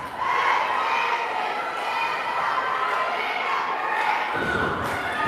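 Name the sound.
student section cheer at volleyball match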